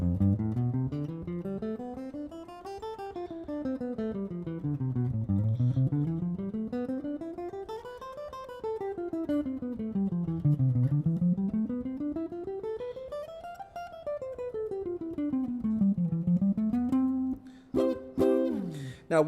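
A guitar runs scales up and down in smooth repeated sweeps of single notes, steady and moderately loud, with a short chord flourish at the end.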